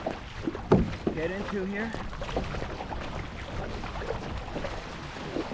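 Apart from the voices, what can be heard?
kayak paddling through water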